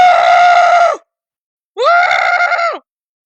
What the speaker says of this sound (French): Pardon pour crier, mais quoi?